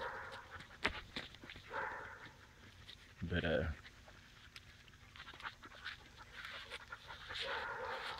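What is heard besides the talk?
dogs panting and jumping around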